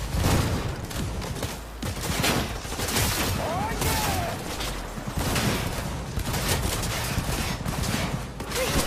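Dense gunfire in Cyberpunk 2077 fills the whole stretch, rapid bursts and booming shots overlapping almost without a break, loud and close, with game sounds layered underneath.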